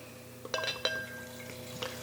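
Barrel-aged Mikkeller Beer Geek Vanilla Shake imperial stout poured into a glass, heard close and quiet as a few light clinks and splashy liquid bursts over a steady low hum, with no talking.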